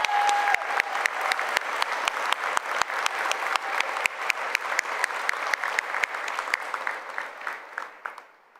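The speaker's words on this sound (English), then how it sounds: "I ask that we please share a round of applause in appreciation for General Gray's lasting legacy" A round of applause at a university commencement ceremony: many hands clapping in a steady, crisp patter from a large crowd, holding strong and then thinning and fading out at the end.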